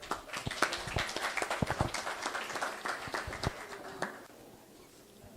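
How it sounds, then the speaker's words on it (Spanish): Scattered audience applause for a speaker at a progressive political forum, distinct individual claps that thin out and fade, moderately faint and with a quiet tail at the end. "pido otra vez un aplauso para él"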